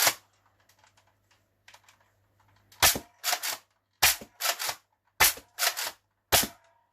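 An X-Shot Pro Series Longshot toy blaster fires a string of about eight sharp, loud snapping shots, in quick pairs and singles after a quiet stretch with faint handling clicks.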